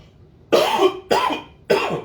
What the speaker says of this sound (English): Still fighting that cough.